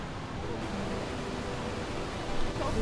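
Rushing river water downstream of Niagara Falls, a broad steady roar close to the microphone with a slight gust or swell near the end, and no voices.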